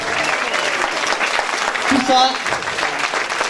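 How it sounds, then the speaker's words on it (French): A festival audience applauds the volunteers in dense, steady clapping that fills the whole stretch, with a few spoken words and brief cheers or whistles rising over it. "on va applaudir très très fort tous les bénévoles de ce festival"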